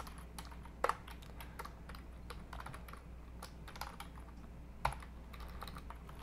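Quiet, rapid clicking of keys on a computer keyboard while code is typed, in irregular bursts with a couple of sharper taps, no voices over it.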